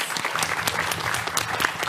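Live audience applauding at a podcast recording at PAX West, a brief, dense burst of clapping with scattered sharper claps, fairly close and steady throughout.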